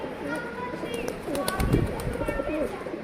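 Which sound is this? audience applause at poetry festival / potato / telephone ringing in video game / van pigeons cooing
van pigeons cooing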